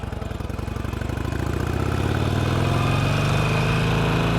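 A 2017 Harley-Davidson Roadster motorcycle engine runs steadily while riding, a loud, continuous low rumble that builds slightly in volume and holds, with wind noise and no talking.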